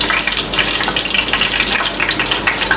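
Chicken and vegetable kebabs frying in hot oil, a steady, loud, dense sizzle and crackle that continues without pause from start to finish.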